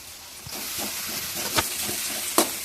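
Curry leaves sizzle in hot oil with a soft steady hiss, broken by a few sharp crackling pops.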